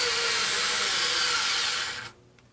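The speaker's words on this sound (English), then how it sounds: "we'll get the Craftsman ready to go, and we get to a good spot to start, we'll run a screw." A Craftsman battery-powered screwdriver drives a screw, a steady close motor whine for about two seconds before it cuts out abruptly, leaving near silence.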